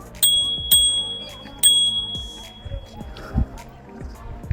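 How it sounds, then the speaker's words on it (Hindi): On a wide street at night in Bahria Town, Karachi, with children playing nearby, a bell rings three times in quick, bright dings near the start, followed by softer street noises. "घंटी बजाना लाजमी है वरना टक्कर ही ना हो जाए।"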